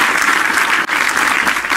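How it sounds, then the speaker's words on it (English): An audience gives a virtual round of applause during a VR roundtable discussion held in a virtual space, producing dense, steady clapping that stays loud throughout with no break. "Let's get a virtual round of applause."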